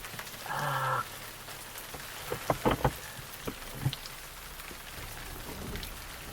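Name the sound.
rain falling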